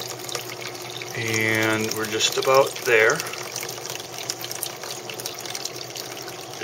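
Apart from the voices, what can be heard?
water flowing through a clear bell siphon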